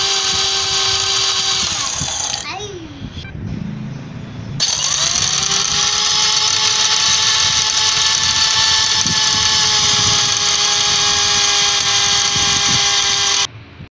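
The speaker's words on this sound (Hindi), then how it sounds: "अच्छी तरह से इसको ग्राइंड करना है।" An electric grinder whirs loudly as it grinds herbs for a herbal back pain remedy, a steady close motor whine that cuts out briefly, restarts, and runs on before stopping.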